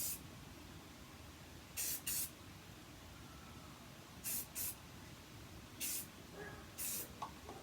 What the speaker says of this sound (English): I wouldn't spray my hair with hairspray when it's straight